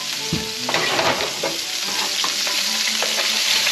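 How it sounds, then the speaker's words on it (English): Tuna steak sizzling and searing in hot oil in a pan for fish taco bowls, a steady loud fry with bursts of spatter and scraping as it is flipped and stirred. "I'm gonna go ahead and flip the tuna."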